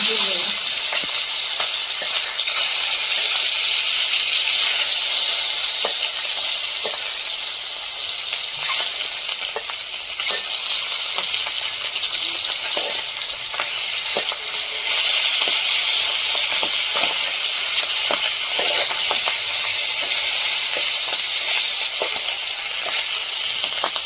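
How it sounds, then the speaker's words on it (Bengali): Large Tengra fish frying in a pan spits and crackles loudly, a constant hissing sizzle broken by sharp pops and spatters over a long stretch, with occasional talk in the kitchen. "এত ফাটছে, মাছটা ঢেকে ঢেকে ভাজতে হচ্ছে।"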